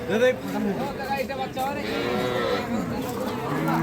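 Dairy cows low at a cattle market in Ambari haat, Dinajpur, their moos rising and falling among nearby voices and the busy chatter of the market crowd.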